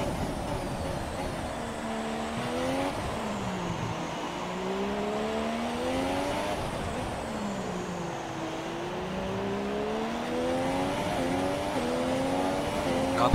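A Formula 1 race car engine in a racing video game, a loud continuous high-revving whine that climbs and drops with gear changes and throttle lifts through corners, with a commentator's voice faintly underneath.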